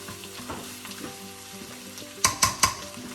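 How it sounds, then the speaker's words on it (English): Cauliflower bacon rice fries in a pan with a soft steady sizzle, then three quick loud scrapes as a spatula lifts the crispy browned bottom, close to the listener. "we're gonna stir one more time and have that crispy brown come up from the bottom"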